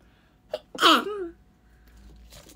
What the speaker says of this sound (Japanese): あー、くしゃみ出そう。